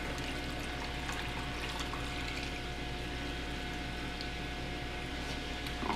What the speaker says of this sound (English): take your 2 cups of water and just put that inside your cup